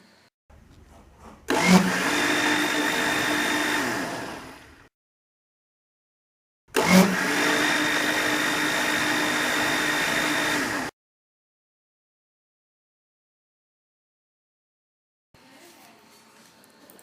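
Homemade curd beaten with an electric blender to churn butter for ghee: two loud close bursts of whirring motor, each several seconds long, separated by silence, with a faint trailing sound at the end.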